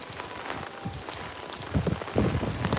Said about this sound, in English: Look at the wind and the rain coming down.